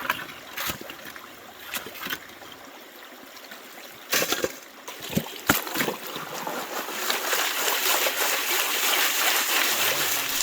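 Fast creek water rushes past a big rock at a gold-prospecting sluice box site, a steady close-up wash of flowing water broken by a few sharp knocks and splashes, with no talking.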